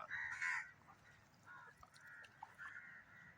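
Several birds call in a mangrove forest with harsh, crow-like cawing. A loud burst comes near the start, then quieter calls repeat over a steady background hiss.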